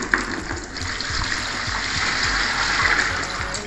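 Liquid for a homemade toilet cleaner is poured into a bigger container, giving a continuous splashing, gushing pour that stays close and steady throughout, with no speech.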